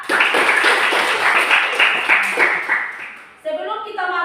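A classroom of students claps together in a dense, steady burst that tapers off, then gives way to a teacher speaking.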